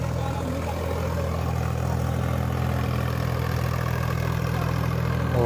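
A tractor engine runs steadily throughout, a loud continuous low rumble with a constant idling drone and no breaks, apparently working in wet, waterlogged ground.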